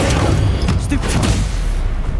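Spell-casting effect in Hogwarts Legacy: a deep booming blast with crackling bursts amid ongoing combat noise, loud and dense, with a voice briefly heard over it.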